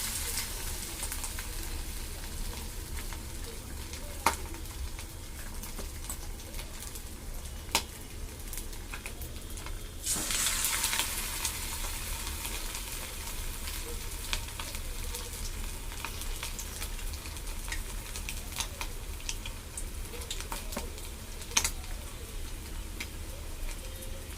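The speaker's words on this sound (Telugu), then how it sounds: "ఒక్కొక్కటి ఫ్రై చేసుకుందాం చూడండి కార్న్ఫ్లోర్ బాగా అయింది కదా ఇప్పుడు ఒక్కో పీస్ వేసుకుందాం" Cornflour-coated fish pieces fry in hot oil, giving a steady, close hiss of sizzling with occasional sharp ticks and pops, and a brief louder surge about halfway through as another piece goes in. No voices.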